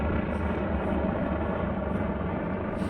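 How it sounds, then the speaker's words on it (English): A helicopter flies overhead, a steady, dense low rotor rumble filling the background at moderate level throughout, with no voices. "I'm sorry, there's a helicopter."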